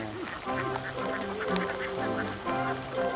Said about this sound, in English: Pasturing ducks on rice fields used to be very popular in the Vietnamese countryside